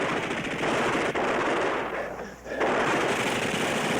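Sustained automatic gunfire in a war film battle scene, soldiers firing into trees, dense and loud, with a brief lull near the end before the firing resumes.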